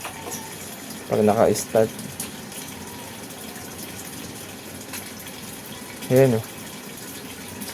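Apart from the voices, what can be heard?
water draining from automatic washing machine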